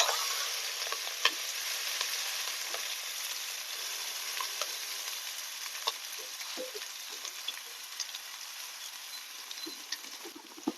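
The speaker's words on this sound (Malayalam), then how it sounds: "നമുക്ക് ഇളക്കി കൊടുക്കാം" Jackfruit leaf thoran with curry leaves stir-fried in a pan: a continuous close sizzle broken by small clicks and light scrapes of the spoon, steady throughout with no talking.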